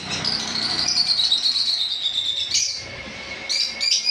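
Pet birds at a bird sale, including blue-masked lovebirds and cockatiels, chirp and tweet in a dense, continuous high-pitched chatter, close and lively, with no voices.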